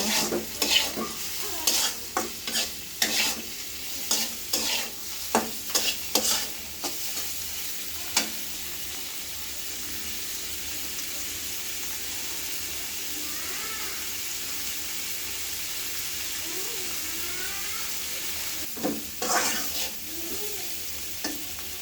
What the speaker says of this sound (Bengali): চিংড়ি মাছগুলো হালকা একটু ভেজে নেব।